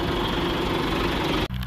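A John Deere 2440 tractor engine runs steadily with a fertilizer spreader hooked up, a continuous close idle-like drone that cuts off sharply near the end before a brief resumption.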